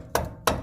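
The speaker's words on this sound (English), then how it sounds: "Just gonna have to jam it in there and push that clamp out using a hammer." Two sharp hammer blows a third of a second apart, metal struck to drive out a tie rod clamp on a Toyota Tacoma, close and loud with a short ringing decay.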